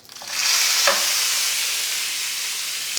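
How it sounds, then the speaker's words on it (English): A cowboy steak hitting a hot oiled skillet with garlic, close and loud: a quick onset swells into a steady, bright sizzle that holds evenly throughout, with no voices. "This skillet has been warming up for some time now, so we're going to go ahead and put our steak in there."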